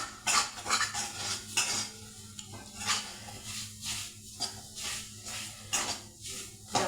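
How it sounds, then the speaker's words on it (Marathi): A spoon scrapes and stirs food being browned in a pan, with repeated metallic strokes in an uneven rhythm over a soft sizzle, close and fairly quiet. "ती ब्राऊन होईपर्यंत आपण तिला परतवू."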